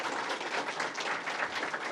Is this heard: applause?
yes